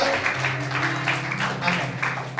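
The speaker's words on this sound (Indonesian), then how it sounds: "Tepuk tangan bagi Allah kita." Congregation clapping together during a church worship service with Holy Communion, a steady dense wash of applause throughout with music or voices underneath.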